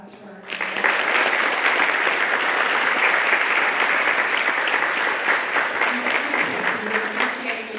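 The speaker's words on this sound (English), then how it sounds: "Can we have a round of applause for our" Loud, sustained applause from a conference audience breaks out abruptly and fills the room for several seconds after a panel at a college hunger summit.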